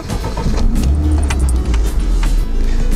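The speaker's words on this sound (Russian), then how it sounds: "Старт your engine!" A LADA 4x4 engine is started with the ignition key: a brief rattle and click of keys, then a loud low cranking and catching rumble that settles into a close, steady running engine.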